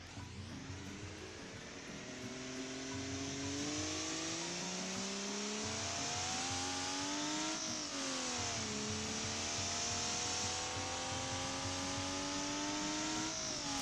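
A modded car in a driving video game accelerates and revs, its engine pitch rising and falling through repeated gear shifts, loud and close with no talk.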